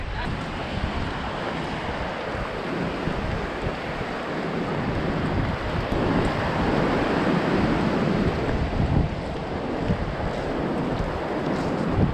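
Ocean waves and surf roll in at a San Diego beach, a dense continuous wash of broadband noise with wind buffeting the microphone and no clear break between swells.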